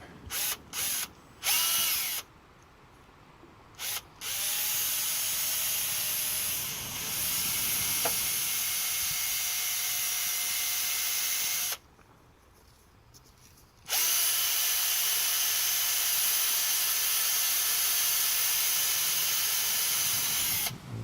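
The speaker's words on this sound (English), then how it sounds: "And let's just get a little bit of very fine, worn out emery cloth here." A Kubota D902 diesel fuel injector from a BX25 tractor is buffed with fine, worn emery cloth, giving a steady loud drill-like whirring hiss that runs almost continuously, stopping in a few brief gaps and one longer pause.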